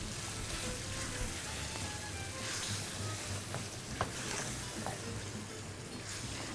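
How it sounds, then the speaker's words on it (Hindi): Minced meat (keema) sizzling as it is roasted in a pan on a stove, with a steady, quiet crackling hiss and a few louder pops and scrapes of stirring. "देखो कीमे की भुनाई में ज़रा सा टाइम लगता है"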